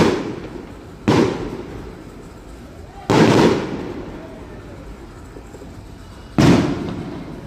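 Fireworks bursting in a display, three loud, sharp blasts spaced a second or two apart, each trailing off into a crackling rumble over steady background noise.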